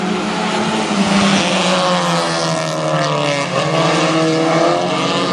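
Race cars at a dirt speedway roar off together to start the final heat race, a loud, dense blend of engines rising and holding steady, heard from nearby at the track.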